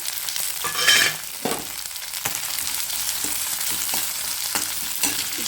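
Onion, garlic and capsicum frying in a pan for a bitter gourd palya, a steady close sizzle with occasional scraping stirs, no voices.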